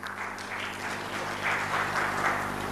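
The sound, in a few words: audience applause at a conference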